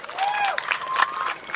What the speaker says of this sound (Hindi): जोरदार ताली अपने लिए।